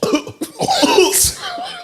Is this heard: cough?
yes